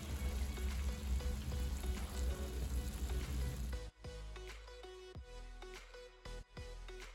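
Mutton with kasuri methi and chopped green chillies sizzling in a pan, a dense steady frying hiss that suddenly quiets, followed by scattered clinks and scrapes of stirring against the metal.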